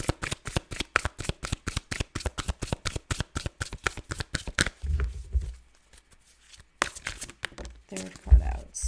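A deck of tarot-style cards being shuffled with a fast run of crisp riffling snaps, then a pause and a few softer slides as cards are drawn out, close and clear.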